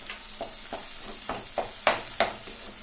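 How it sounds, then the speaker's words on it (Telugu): Ginger and garlic fry in a pan for an aloo tomato curry, with a soft steady sizzle broken by repeated scraping stir strokes that grow sharper toward the end. "ఇప్పుడు అల్లం వెల్లుల్లి కూడా వేగి మంచి వాసన వస్తుంది"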